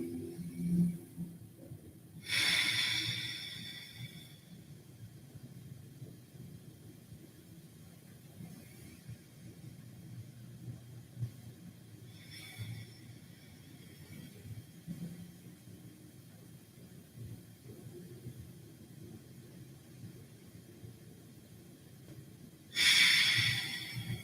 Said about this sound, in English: So let's give ourselves maybe just 4 deep breaths here.